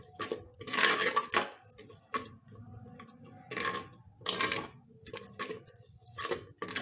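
Kanaganthalu sea fish pulusu, a fish curry with salt, ginger, turmeric and chili added, stirred in a pot with a metal utensil, giving repeated clinks and scrapes in short bursts.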